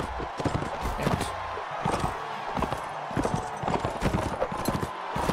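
Horses gallop in Mount & Blade: Warband, a steady rapid clatter of hooves running continuously at close range, with a faint whinny possible beneath.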